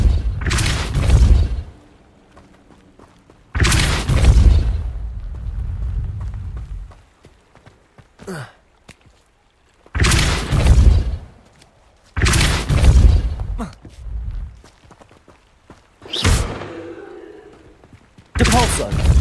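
Depulso spell cast repeatedly in Hogwarts Legacy, each cast a heavy booming blast with a rumbling tail, several loud bursts spaced a few seconds apart with quieter game ambience between.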